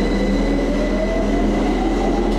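Continuous loud rumble of a train running in the horror video game Lost in Vivo, a steady low drone with faint high tonal whines throughout, no talking.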